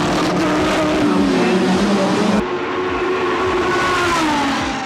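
Turbocharged Porsche 934 and 935 race cars on a track, engines howling loudly and pitching up and down as they pass, with an abrupt cut partway to another stretch of racing.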